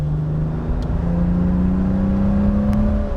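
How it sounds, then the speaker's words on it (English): A 1964 Aston Martin DB5 coupe accelerating on a farm road, its engine a steady, close drone whose pitch climbs smoothly throughout. "Let's go through the gears. First gear, second."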